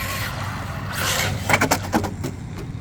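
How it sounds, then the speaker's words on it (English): Traxxas Mini Rally Ford RS200 RC car spinning its wheels in a burnout on a street, a rising motor whine followed by several sharp scrabbling tyre bursts, close and fairly loud. "Gnarly burnout though."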